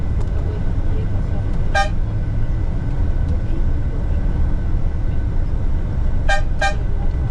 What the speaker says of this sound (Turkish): Önüne, önüne gelene korna çalıyorlar